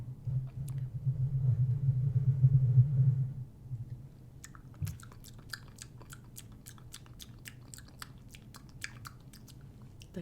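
Vlasic pickles crunched and chewed up close in a quiet room, a wet, steady munching for about three seconds that fades into faint clicks and soft taps.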